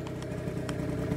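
Yamaha's biggest motorcycle engine runs at a steady, low, throbbing idle, close and continuous with no talking.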